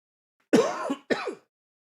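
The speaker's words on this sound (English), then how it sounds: "apologies for the coughing" Two quick, rough coughs or throat-clearing bursts, close and loud, back to back with a short gap, then silence.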